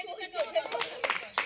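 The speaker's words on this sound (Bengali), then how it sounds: "হ্যাঁ তালি দেন একটু সবাই তালি দেন" Several people at an outdoor sack race event clap together in short, uneven bursts close by, while a voice talks over the clapping.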